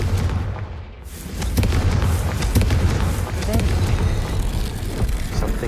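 Confringo blasting spell explosions in the Hogwarts Legacy video game, a loud continuous roar of booming blasts with a brief dip before it swells again, heavy rumble throughout with a voice talking over it.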